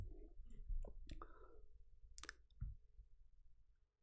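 A command being typed on a computer keyboard: a handful of light, irregular key clicks, close and quiet, in an otherwise still room.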